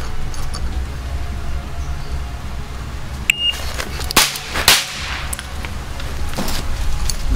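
Two sharp gunshots ring out about half a second apart in a timed shooting test, each a loud crack with a brief echo, set against low background rumble and silence before and after.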